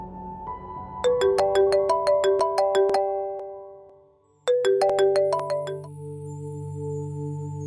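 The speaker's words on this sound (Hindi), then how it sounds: "आप प्लीज अपनी कॉल रिसीव कर लें, बार बार फोन ना कट कीजिए।" A melodic phone ringtone plays two bursts of rising tone sequences, the first about two seconds long, then a short gap and a second burst, loud and clear with no talk over it.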